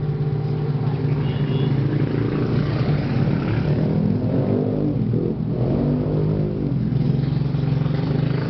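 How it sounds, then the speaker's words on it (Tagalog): A motorised tricycle passes close by, its engine a loud, buzzing growl that rises, dips briefly midway and rises again as it goes past. No one speaks. "Palampasin ko lang tricycle ha."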